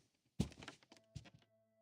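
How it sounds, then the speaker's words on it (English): A door kicked hard and smashed through in the game Reverse 1999, heard as a heavy wooden thunk and splintering crash followed by a second, smaller impact and rattling debris, close and alone. "kicks the door hard, smashing a hole straight through it."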